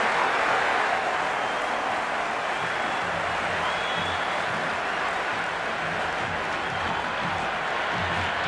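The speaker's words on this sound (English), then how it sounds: "It's evident and ever so audible that the crowd is at near bursting point at today's play." A simulated cricket stadium crowd in the video game Cricket 26 during an India versus Pakistan T20 match roars in a loud, continuous wash of cheering and applause.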